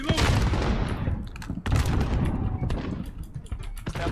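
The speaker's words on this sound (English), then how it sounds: "I'm gonna get my first advance with this machine gun." Rapid machine gun fire in a video game, dense bursts of close, loud shots rattling almost continuously with brief gaps, and faint background chatter.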